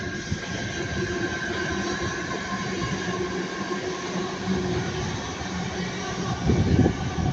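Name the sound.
Northern Class 323 electric trains passing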